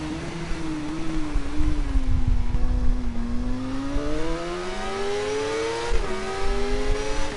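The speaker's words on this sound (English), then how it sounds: "I could hear that engine." Racing motorcycle engine in the TT Isle of Man video game, a continuous high-revving whine that rises and falls through gear changes, loud and unbroken with no talk over it.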